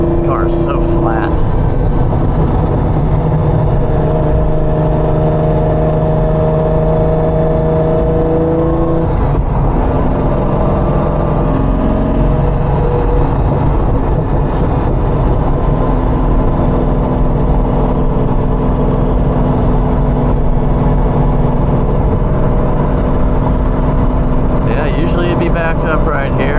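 A Lamborghini Diablo engine, heard from inside the car, drones loud and constant, climbing in pitch as it revs and dipping between gear shifts. The sound stays thick and continuous throughout, with no break.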